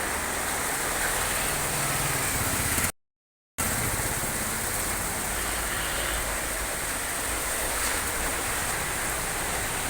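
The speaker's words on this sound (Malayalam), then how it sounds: "അപ്പോൾ ഇവിടെ പെരും മഴയാണ്." Heavy rain driven by strong wind pours down in a dense, steady roar that fills the whole clip, broken only by a short silent dropout near the three-second mark.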